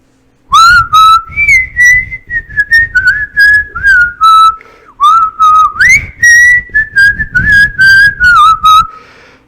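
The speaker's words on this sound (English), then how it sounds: "So he's whistling that" Someone whistles a lively tune alone, clear and close, in quick phrases with short pauses between notes.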